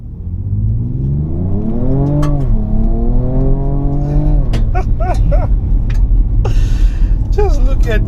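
A 2024 Ford Ranger Raptor with a 3.0L V6 on all-terrain tires accelerates from a standstill on gravel, its engine note climbing steadily through several gear changes, loud and close inside the cabin, with a gasp and voices over it.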